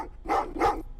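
Dog in a Terminator video game giving two quick loud barks in close succession, near and clear over a low hum.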